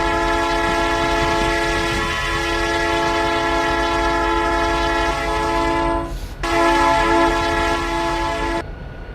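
Diesel freight train horn in the RO-Scale Sandbox game, from Canadian freight locomotives: a loud, sustained multi-tone blast that breaks off briefly, then sounds again before cutting out near the end.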